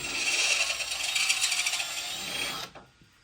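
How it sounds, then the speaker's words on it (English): A power drill bores out a pop rivet on an AluCab camper canopy, whining steadily and close for about two and a half seconds before stopping abruptly. "to do that we'll just drill off the pop rivet here a little bit"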